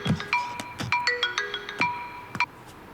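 A phone ringtone plays a quick series of bright melodic electronic notes, close and clear, with no talking over it.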